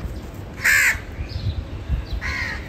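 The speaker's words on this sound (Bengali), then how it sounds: "এখন সব কাক আসছে।" Crows gather to be fed leftover fried rice, giving a few loud, harsh caws close by, separated by short pauses, with quieter background noise between the calls.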